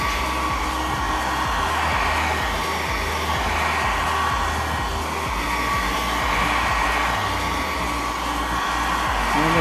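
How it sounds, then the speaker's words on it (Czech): A hair dryer blows steadily and loudly throughout, used in place of a heat gun to warm the display of a Xiaomi Redmi Note 9 Pro for removal, with no talking. "takže používám fén."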